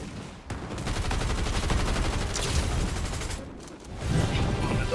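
Sustained rapid gunfire from the video game Fortnite rattles in a dense, continuous burst, loud and busy throughout, with a brief dip before another volley picks up.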